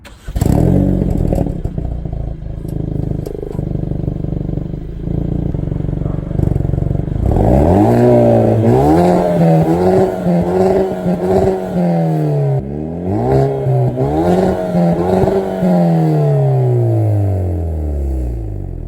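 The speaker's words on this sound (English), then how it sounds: "let's check out that exhaust. I'll even start it too." Hyundai Veloster N hot hatch with dual exhaust fires up and revs repeatedly, loud and close, the exhaust note rising and falling in several sharp blips with crackle after an initial idle rumble.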